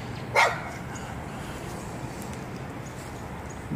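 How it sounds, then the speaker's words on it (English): A dog gives a single short, sharp bark near the start, outdoors, followed by quiet background noise with no further barking. "I got a dog problem over here"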